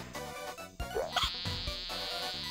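Continuous insect-like chirping from a video game about bugs, a steady high buzzing trill that persists alongside soft repeating game music and a brief swooping effect, moderately loud with no talk.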